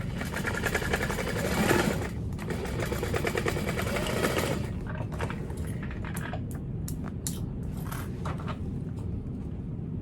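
A sewing machine runs in a steady, close, loud buzz while basting strap connectors onto the side seams of a handbag, then stops, leaving quieter clicks and handling of fabric.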